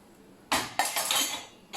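Steel coffee tumblers clink and clatter as they are lifted out of a Bosch dishwasher after six years of use, a few sharp metallic knocks followed by rattling, close and loud in a quiet kitchen.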